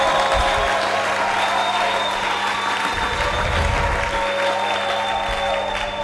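A church congregation applauds steadily throughout, the clapping dense and sustained from a crowd, with a faint held musical tone underneath.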